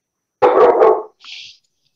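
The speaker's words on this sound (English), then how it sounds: "Why your dog sound like a grown old man in the house?" A single deep, gruff bark from a dog indoors, loud and close, followed by a shorter, softer huff; no talking.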